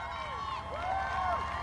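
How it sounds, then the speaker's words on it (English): Spectators lining the 2019 Boston Marathon route cheer in a brief, fairly distant wash of crowd noise, with a voice talking over it. "Listen to those crowds."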